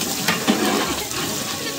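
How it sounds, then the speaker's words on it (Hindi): Hot oil sizzles steadily with a hissing crackle as garlic fries, close and continuous, with a faint clink of stirring. "गरम है तेल है, तुरंत लहसुन लाल हो गए"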